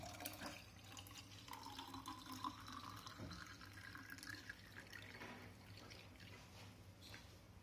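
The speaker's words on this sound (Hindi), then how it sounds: "अब इसमें संभाल करके डालेंगे आप पानी" Water is poured carefully into homemade rose syrup to make a rose sharbat, a soft trickling, filling stream that runs continuously but faintly, with no talking.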